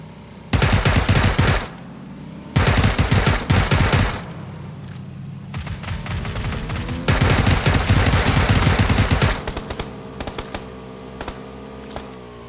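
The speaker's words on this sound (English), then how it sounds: "they're shooting at you guys" Bursts of automatic gunfire in the battle royale game PUBG, loud and close, firing in several rapid volleys of a second or two with short gaps between, followed by lighter scattered shots.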